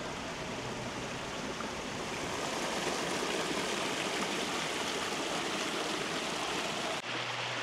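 A small brook at the source of the River Cone flows steadily with a dense, even rush and burble of water, close and constant throughout, then drops off sharply just before the end.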